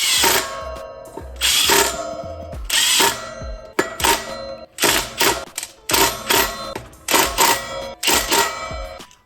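An impact wrench drives Loctite-coated bolts to mount a brake rotor on an Ultra Bee electric bike, firing loud, close, rattling bursts about once a second, each ending in a short hammering buzz.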